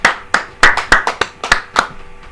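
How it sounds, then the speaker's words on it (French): A church congregation bursts into hand clapping, about ten sharp claps in a loose, uneven rhythm, close and fairly loud, with no voices. "Applaudissez, applaudissez"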